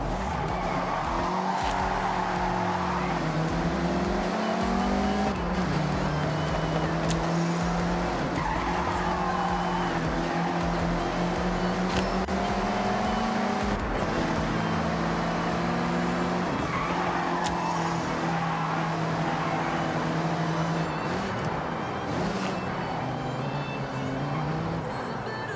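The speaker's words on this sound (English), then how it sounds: "Attack these corners. Don't worry about traction. The MX-5 likes to be sideways." Mazda MX-5 driven sideways through corners in Forza Horizon, its engine revving up and down in repeated waves with tire squeal and skidding, loud and continuous with no talk.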